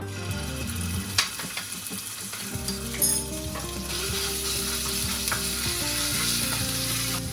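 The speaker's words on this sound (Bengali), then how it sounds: "এবার এতে দিয়ে দেবো এক চামচ রসুন বাটা" Garlic paste hits hot oil in a pan with cloves for smoky paneer, a loud continuous sizzle with a few bright clinks of a spoon and stirring scrapes, close-up and uninterrupted by speech.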